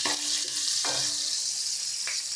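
Slit green chilies fry in a pan of hot oil, giving a bright, constant hiss-like sizzle with a few brief stirring scrapes, close by and with no voices.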